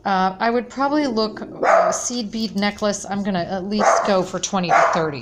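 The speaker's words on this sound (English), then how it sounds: "excuse the dog." A dog barks and yips intermittently in the background, partly masked by someone talking steadily over it indoors.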